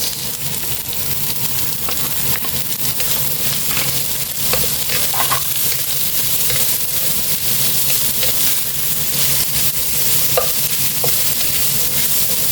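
Fishballs and carrots stir-fry in a pan, giving a constant close sizzle with scattered scrapes and clinks from the stirring, and no voices.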